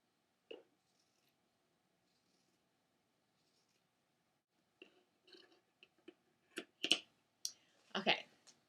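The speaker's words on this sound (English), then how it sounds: "I'm just going to cut straight down the center of my sweater" Scissors cutting straight down the center of a sweater, faint close snips and fabric rustles in scattered short bursts, sparse at first and denser toward the end, in a quiet room.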